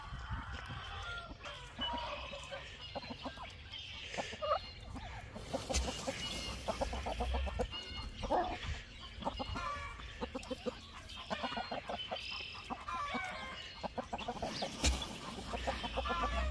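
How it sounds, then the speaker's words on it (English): A flock of backyard chickens clucking continuously while pecking at soldier fly larvae thrown on the ground, many overlapping close clucks and chatter, steady and moderately loud with no talk. "So I'm out here by all of my chickens, and we are gonna throw some of this on the ground for them."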